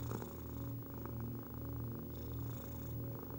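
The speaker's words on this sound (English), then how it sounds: "With each inhale, welcome this purr and its healing vibrations" A cat purrs steadily and softly at close range, a continuous low rumbling vibration with gentle rhythmic swells in time with its breathing, heard alone without any voices.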